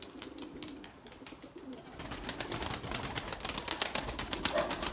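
Young pigeons in a flock flying near the loft, with soft cooing and fluttering wingbeats that grow louder and busier over a few seconds, no voices.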